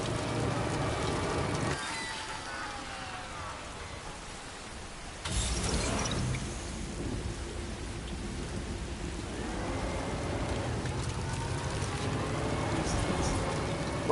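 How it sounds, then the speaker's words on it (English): Rain falling during a dark stretch of Death Stranding 2: On the Beach, a steady hiss of downpour with a rumble of thunder partway through, continuing loud and unbroken throughout. "And it's raining."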